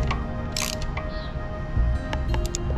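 A ground screw is fastened into the engine of a zero-turn mower, giving metallic ratcheting clicks, small clinks and tool scrapes that are close and busy over a steady background hum.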